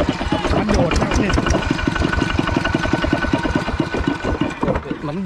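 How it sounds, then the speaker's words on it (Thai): A used walk-behind farm tractor with a centre-mounted engine chugs in a steady, rapid rhythm of close, loud firing pulses. A voice is briefly heard near the end. "ตัวนี้จะค่อนข้างที่จะสตาร์ทยากเพราะมันอยู่ตรงกลางเครื่องนะครับ"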